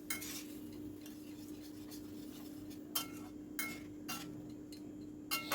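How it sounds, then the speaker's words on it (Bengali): A utensil stirs potatoes, spices and a little hot water in a pan, making faint, quiet scrapes and a few sharp clinks against the metal at irregular moments. "দিয়ে অল্প করে গরম জল দিয়ে ভালো করে সব কিছু মিশিয়ে নিচ্ছি"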